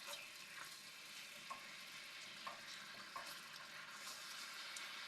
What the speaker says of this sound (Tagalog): Haluin lang natin to guys.